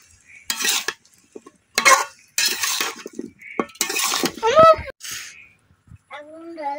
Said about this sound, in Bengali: এখন মশলার সাথে খুব ভালোভাবে কুমড়াটা মিশাই নিলাম।